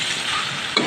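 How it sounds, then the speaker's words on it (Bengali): Chicken stir-fried with spices in a pan makes a close, continuous sizzle, ending in a brief scrape of a spatula. "মশলা দিয়ে চিকেনটাও একদম কষিয়ে নিচ্ছি"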